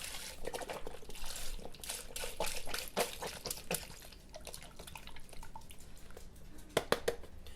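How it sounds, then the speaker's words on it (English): Beef broth poured over meatballs in a pot for Italian meatball soup, a splashy trickling pour with irregular drips and liquid bursts, fairly faint and close. "you take your beef broth and put it in on top of your meatballs, just like that"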